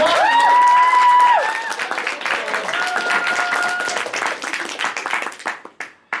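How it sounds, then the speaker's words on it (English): Audience applause swelling after a host's call for another round, clapping and some cheering beneath a loud held voice at first, then thinning into scattered claps that die away near the end. "let's give him another round of applause."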